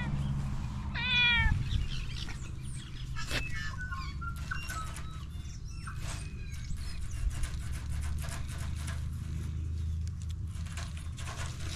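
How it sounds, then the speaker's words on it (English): A cat meows once, loud and close, near the start of a garden scene, followed by a long stretch of low outdoor rumble, faint bird calls and scattered scratching noises. "There's a cat."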